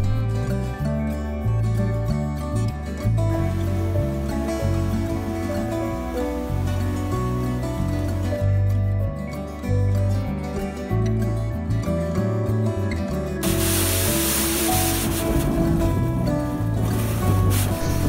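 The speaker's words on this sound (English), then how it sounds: "This plate vents the water draining into the lock. Most of the time they're not so noisy. Sometimes they whistle, and sometimes they shoot water at you." Water jets and splashes from a vent plate on a canal lock gate as a narrowboat lock drains, a loud continuous rushing spray that persists throughout with a brighter hiss toward the end.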